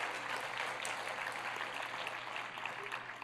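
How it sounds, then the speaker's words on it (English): Quiet, steady applause from an awards ceremony audience in a school district hall, honoring a high school choir and ROTC, continuous and somewhat distant with a low hum beneath. "how about another quick round of applause for the Palmetto High School Choir and their ROTC"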